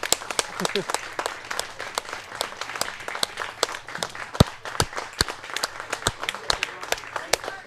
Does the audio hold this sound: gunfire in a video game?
no